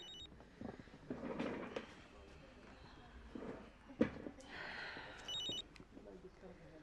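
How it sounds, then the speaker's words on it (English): A cell phone rings indoors in short repeated high tonal bursts, one near the start and another near the end, heard under people talking and moving around. "Please tell Hilda her cell phone's ringing"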